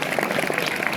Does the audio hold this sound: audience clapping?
yes